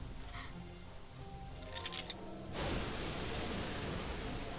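Rain in the video game Shadowgate comes in as a sudden steady hiss of downpour, a broad even wash that stays loud and constant after a quieter ambient stretch, with no voices.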